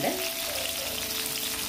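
Dried red chillies roast in a pan for chammanthi, making a brief, soft, close sizzle.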